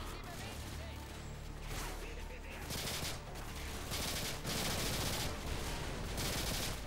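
Rapid automatic fire from a G18 pistol in Call of Duty: Modern Warfare 2 crackles in dense, sustained bursts, loud and close, with other battle noise layered underneath and a voice briefly present.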